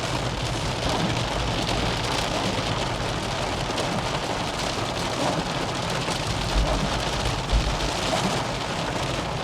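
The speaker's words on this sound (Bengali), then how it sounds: "বৃষ্টি ইন্টেন্সিটি দেখছেন," Heavy rain with large drops falls in a steady, dense roar, drumming hard on surfaces nearby, with low rumbles mixed in and no voices.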